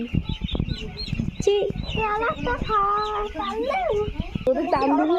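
Chickens cluck and squawk at a poultry farm, a busy cluster of close, overlapping calls running throughout, mixed with a voice and other talk in the background.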